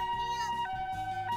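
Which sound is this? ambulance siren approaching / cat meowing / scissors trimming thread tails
ambulance siren approaching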